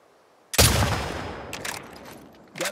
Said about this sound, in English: it's our first time using a sighted rifle